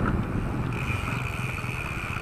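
A motorcycle rides ahead along a rough, bumpy rural road past a mango farm in Zambales, its engine a steady, moderately distant drone that blends with road and wind noise throughout.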